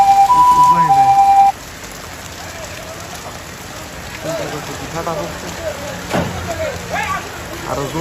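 Heavy rain pours steadily during a Kalbaishakhi storm near a river, with a siren-like tone at first. People talk intermittently over the loud, continuous downpour.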